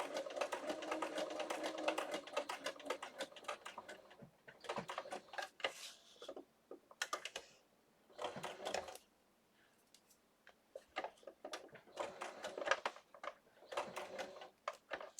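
A sewing machine stitches slowly around the corners of a fabric sewing folio in short bursts of ticking, with quiet gaps between runs as the work is pivoted; faint and close with no talk.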